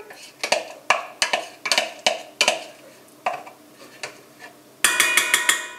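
Almond cream for calissons being mixed into the rest of the mixture, with a utensil clinking and tapping against a bowl in a quick, uneven rhythm, then a denser flurry of scraping and knocking at the end.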